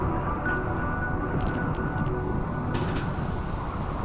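Steady rain from a spell in the video game RimWorld, a continuous close hiss of falling drops with no break or change in strength.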